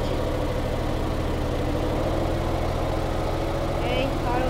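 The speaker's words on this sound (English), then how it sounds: "Let me kill the engine." Boat engine idling on a patrol vessel, a steady low rhythmic throb that stays even throughout, with faint background sounds near the end.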